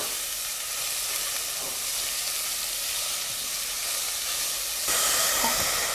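Chopped onion sautéing in a pan for lentil soup (dahl), a steady loud sizzle and hiss throughout with a slight rise near the end, no talk.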